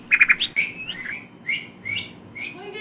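A human voice imitates a little bird chirping, with a quick burst of three high tweets followed by several separate whistled chirps, close and clear.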